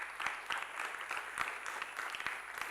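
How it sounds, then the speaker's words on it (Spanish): Audience clapping at a fireside panel during a Bitcoin summit in Madrid, a steady patter of many hands at moderate distance, continuous with small swells and no voices. "por favor, un aplauso para Carlos"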